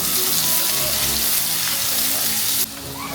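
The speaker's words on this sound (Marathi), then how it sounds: "कांदा छान फ्राय होऊ द्यायचा आहे." Onions fry in a pan for a masala okra (bhindi) dish, a steady dense sizzle close by that drops abruptly near the end, with no talking.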